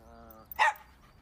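A single short dog bark sounds at close range, brief and sharp, following a sustained tonal sound, in an animated firefighter cartoon.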